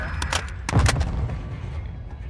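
Gunfire in Modern Warfare 2 during a 4v4 match: a quick burst of several sharp shots cracking close together, then trailing off into quieter game ambience.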